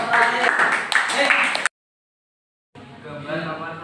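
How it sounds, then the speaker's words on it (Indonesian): Applause from a group in a classroom session on Islamic dress, a dense burst of clapping that cuts off abruptly, then resumes more softly after a short silence, with voices mixed in. "tepuk tangan untuk kelompok terakhir"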